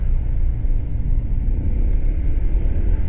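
Dense traffic on a five-lane stretch of Marcos Highway makes a continuous low rumble of engines, steady and loud from close range with no distinct passes and no voices.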